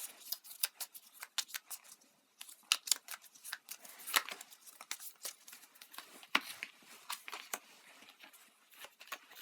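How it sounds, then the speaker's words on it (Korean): Tarot cards are shuffled and drawn for a reading, making a run of quick, crisp flicks and taps in irregular bursts, close and fairly quiet, with no talking. "그러면 여러분을 위한 어드바이스 카드 뽑아보겠습니다."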